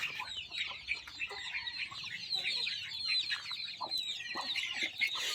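A flock of free-range farm hens clucks and squabbles continuously at close range, with many overlapping calls and no voices.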